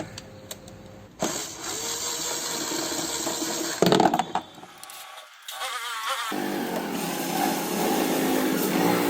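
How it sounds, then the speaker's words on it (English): Bolts being removed from the luggage box of a Honda Activa scooter with a 12 mm tool, heard as close metallic clinks and taps, a ratcheting rasp and a brief clattering burst, with quiet stretches between. "Remove the three 12 mm bolts from the luggage box, turning counterclockwise to remove."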